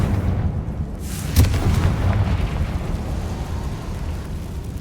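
A Confringo fire spell in Hogwarts Legacy bursts with a sharp crack and a loud, fiery boom, followed by a rumbling crackle that fades slowly.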